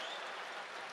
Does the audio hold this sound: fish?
no